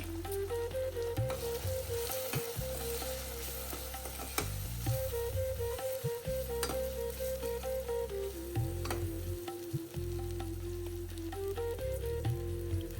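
Spices and turmeric frying in hot oil in a pan, a dense, continuous close sizzle with soft crackles and occasional clinks, steady throughout with no voices.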